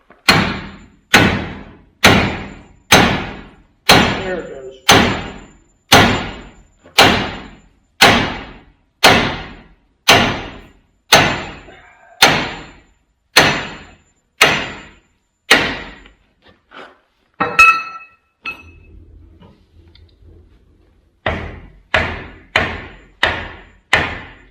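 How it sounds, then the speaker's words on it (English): A 20-pound sledgehammer strikes power buggy parts in heavy, evenly spaced metallic thuds, about fifteen blows in a steady rhythm, then a short pause with light clatter and a brief voice, followed by a quicker burst of blows. "Amazing what you can do with a 20-pound sledge"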